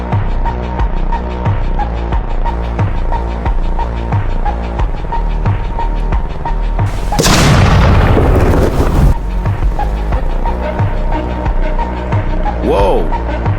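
In a video game, 500 lb bombs explode on a house: a long, loud, booming blast rumbles for a couple of seconds, set against a dense, pulsing game soundtrack that plays throughout.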